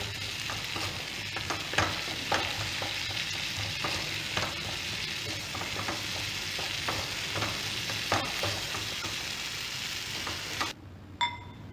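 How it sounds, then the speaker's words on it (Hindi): Onion and tomato paste fries in a pan as a spatula stirs it, a steady sizzle punctuated by frequent scraping strokes, then a short quieter stretch with a couple of knocks at the end. "इसे अच्छी तरह हम भून लेंगे ताकि ये अच्छी तरह से पेस्ट बन जाए।"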